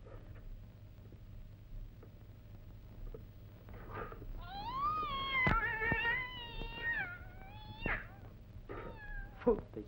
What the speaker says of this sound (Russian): я совсем забыл про этого черного котенка